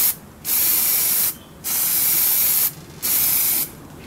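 An aerosol can sprays Plasti Dip rubber coating onto car wheels. Three sustained hissing bursts, each about a second long, are loud and close, with short quiet gaps between them.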